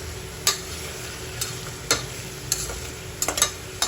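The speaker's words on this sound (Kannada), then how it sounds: "ಈ ಥರ ಒಂದು ಸ್ವಲ್ಪ ಟೊಮೆಟೊ ಮೆತ್ತಗಾಗೋ ತನಕ ಫ್ರೈ ಮಾಡಿದರೆ ಸಾಕು" Tomato and onion softening in a pan for tomato bath, with a soft steady sizzle under sharp, irregular clicks of a spoon stirring against the pan, no voices.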